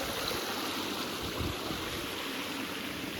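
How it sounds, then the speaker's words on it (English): Small stream flowing at a trail crossing in the Smokies on the Appalachian Trail, a steady broadband rush of water close by, continuous and even throughout. "And then there's another little stream crossing."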